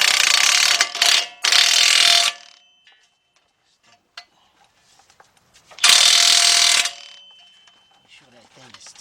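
Ratchet clicking in quick bursts while a ball joint is tightened on a 2005 Chevy Trailblazer, two sharp runs of rapid clicks close up, then a pause with small taps before a third run.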